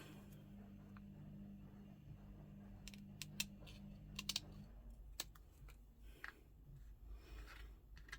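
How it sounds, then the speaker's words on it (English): Paper being cut with scissors for a botanical lapbook journal pocket, giving a run of quiet crisp snips and soft rustles over a steady low hum, close and faint with no talking. "Let me just cut one of these down."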